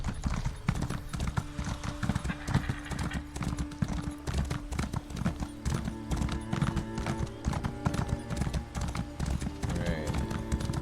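Horse hooves clip-clop steadily while riding in the video game Elder Scrolls Online, a fast, rhythmic, loud patter with game music and ambient tones layered underneath.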